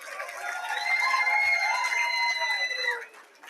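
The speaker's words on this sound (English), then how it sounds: "A round of applause to all the recipients tonight." A crowd at an awards ceremony claps and cheers steadily for about three seconds, a dense wash of applause that fades out at the end.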